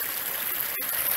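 River water flows steadily at a crossing spot near a waterfall in Truro, a continuous close rushing and trickling with no voices, briefly interrupted by a short gap.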